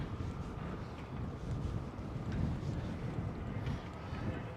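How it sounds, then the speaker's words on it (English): Steady wind buffets the microphone outdoors in Manhattan, New York City, a continuous low rumble and roar that swells and eases slightly throughout without pause. "I don't know if you guys can hear the wind."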